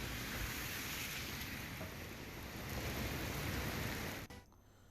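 Torrential monsoon rain pours steadily in Uttarakhand, a dense continuous hiss filling the clip at moderate level before cutting off abruptly near the end.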